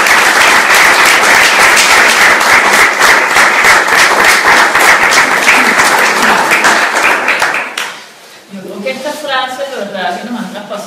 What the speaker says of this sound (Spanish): quiero un aplauso para Adriana Menezes